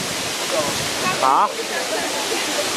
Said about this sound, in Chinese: 有壮观的大瀑布啊